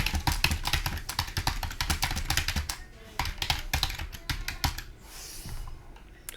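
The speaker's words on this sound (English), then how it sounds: "we can type in the response" Someone types a reply on a computer keyboard, with quick bursts of close, crisp key taps, a short pause, and then more spaced keystrokes.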